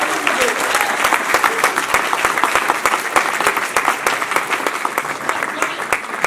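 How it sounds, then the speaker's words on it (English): Audience at a youth conference breaking into sustained applause, dense overlapping claps from a large crowd at steady loudness throughout. "Can we all give a beautiful round of applause for our youth organizer, Richard Jenkins."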